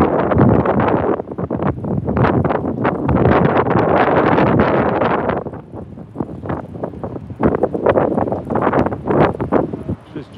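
Strong wind gusting through a downtown street during a power pole fire at night, with heavy buffeting rushes that ease and swell while people talk over it.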